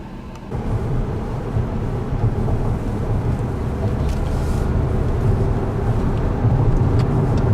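A 2017 Volkswagen Passat V6 SEL Premium cruises along a road, giving a steady, loud low rumble of engine and road noise inside the cabin that runs without a break and with no voices.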